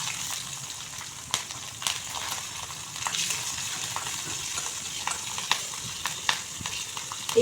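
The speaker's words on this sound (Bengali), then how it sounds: "তারপর এতে দেখুন কালো জিরা ফোড়ন দিয়ে দিচ্ছি। আর এখানে আমি 6টি কাঁচা লঙ্কা দিয়ে দিচ্ছি।" Nigella seeds and six green chillies crackle in two teaspoons of hot oil, a bright continuous sizzle with sharp scattered pops and spits throughout, close and fairly loud, no voices.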